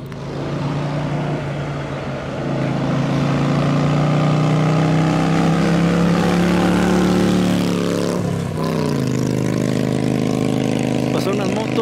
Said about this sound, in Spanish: Pasaron una moto